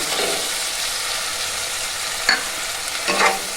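A paste of ginger, garlic, cumin and green chili fries in a pan, a steady loud sizzle with a few scraping stirs of a spoon.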